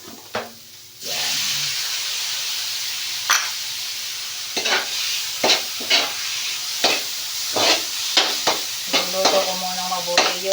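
Chopped tomatoes with softened onions sizzle in a pan for a mung bean stew, a steady frying hiss broken by repeated sharp scrapes and clinks of a spoon stirring, close and loud.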